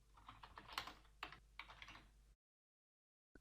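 Quick keystrokes on a computer keyboard patter close and clear for about two seconds, then stop abruptly into silence.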